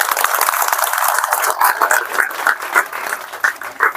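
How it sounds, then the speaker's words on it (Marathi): Sustained crowd clapping fills the whole stretch, a dense steady patter of many hands with a few louder bursts toward the end. "सगळ्यांनी एकदा जोरदार टाळ्या वाजवाय"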